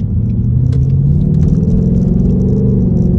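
A Ford Mustang GT rolls over a rough road, a low, steady rumble of tyres and engine with a faint tonal hum, plus light rattles and clicks from the cabin, close and even with no voices.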